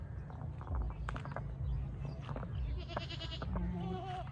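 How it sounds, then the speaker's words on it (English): Goats bleat in a roadside field, several nasal calls rising over a constant low rumble of traffic and outdoor wind. "The goat is trying to chase me. Hey, hey yo! Isn't that beautiful? Lots of goats around."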